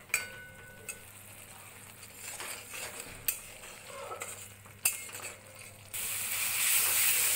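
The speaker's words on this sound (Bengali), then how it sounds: "এর মধ্যে দিয়ে দেব হলুদ আর জিরে গুঁড়ো। মশলাটা ভালোভাবে কষিয়ে নেব।" Turmeric and cumin powder fried with a spice paste in a pan, giving a low steady sizzle with a few sharp clinks and scrapes of stirring, then a louder, brighter hiss near the end.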